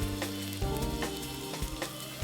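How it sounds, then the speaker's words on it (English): Rempah spice paste sizzles steadily in a hot pan for a Malaysian prawn and pineapple curry, a dense continuous hiss with occasional soft pops and stirring scrapes, close and loud with no talk. "let that sit for a while until it starts to sizzle"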